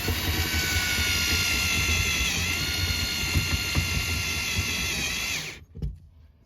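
A power drill drives a screw into a wall while a cheap fold-down table is fitted in a van, giving a loud, steady whine that stops abruptly near the end, followed by a brief clunk and silence.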